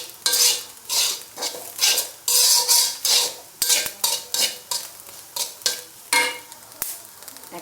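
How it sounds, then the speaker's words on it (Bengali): Grated coconut cooking in a pan with a splash of water is stirred with a spatula, producing rhythmic scraping strokes against the metal and soft frying noise, close up and without speech. "দেখুন, নারকেলটা এরকম ভাজা হবে"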